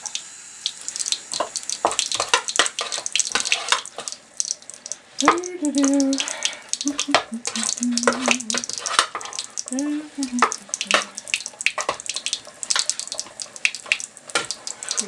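Tap water runs over hands being wetted in a home kitchen while snickerdoodle bars are made, a steady close splashing hiss that lasts throughout, with a voice speaking briefly partway through.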